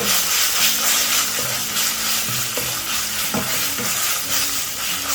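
Ginger garlic paste cooking in oil for a mushroom biryani gives a loud, steady sizzle, mixed with scraping stirs of a spoon against the pan and a few clinks, and no talking.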